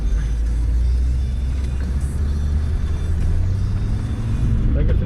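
Land Rover Discovery 2 with the TD5 diesel engine driving off-road, a steady loud low rumble of the engine and drivetrain that holds throughout with no talk over it.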